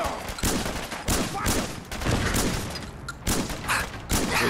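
Rapid automatic gunfire in the video game Fallout 4, loud sustained bursts with brief pauses between volleys, close and dominant throughout.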